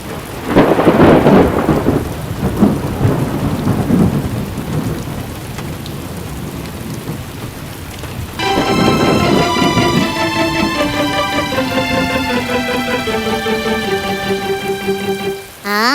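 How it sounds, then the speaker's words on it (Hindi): Rain and thunder in a children's animation: loud rumbling thunderclaps over steady pouring rain, followed by a bright descending musical chime as the downpour continues. "बारिश आ रही है, बारिश आ रही है।"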